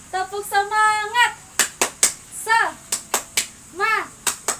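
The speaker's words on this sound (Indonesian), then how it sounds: "Kita bermain tepuk-tepukan" Children and an adult leader chant and clap together in a rhythmic hand-clapping game during an online Sunday school session, with crisp, evenly spaced claps alternating with sung and spoken calls.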